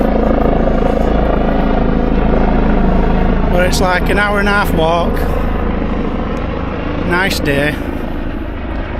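A helicopter's low, steady rotor thrum fills the background throughout while someone speaks over it, outdoors on a walk in Austria.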